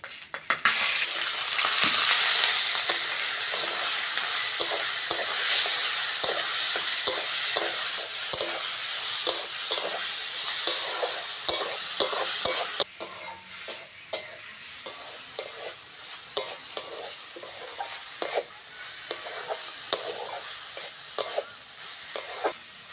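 Shrimp sizzling and spattering in hot oil in a pan, a steady loud fry with frequent stirring scrapes and clicks, easing slightly partway through as the crackle continues.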